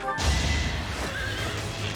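A horse in the video game Fire Emblem: Three Houses gives a loud, close whinny that starts abruptly and holds for about two seconds over faint game background sound.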